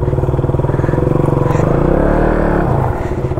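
A motorcycle engine runs close by with a steady pulsing putter, swelling slightly as the bike pulls away on a road trip in mid-western Nepal, then easing off toward the end.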